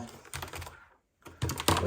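Someone types on a computer keyboard being connected to an Asus ROG Ally, making close, quick clusters of clattering keystrokes that break off briefly and then resume.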